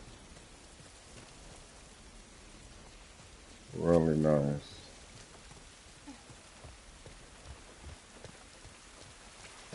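Video game rainfall, a soft steady patter throughout, quiet beneath a man's short spoken remark midway.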